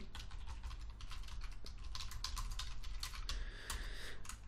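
Rapid, steady typing clatters on a computer keyboard, a dense run of close clicks and key taps with no speech over it.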